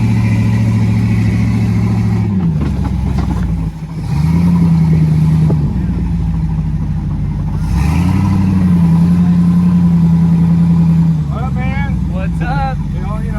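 A vehicle engine in a video game hums steadily and swells as it revs up and drops back, heard close and continuous with voices briefly audible near the end.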